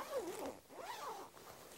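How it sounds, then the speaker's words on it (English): The front zipper of a Scorpion Assault waterproof jacket is pulled open in two quick, close, rasping strokes, with a brief pause between them and no talking. "You can simply just open up and unzip the front portion, and the waterproof liner zips out of the side here."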